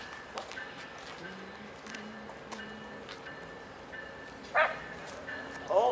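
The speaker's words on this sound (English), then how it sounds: "Yeah, there's a dog there. He just barked." A dog barks twice from somewhere near a railway line, the short sharp yelps standing out over a steady low background hum while a VIA passenger train is nearby.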